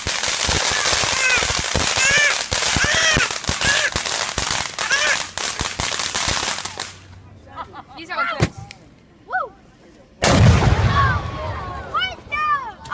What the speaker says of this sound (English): Big ass explosion right there.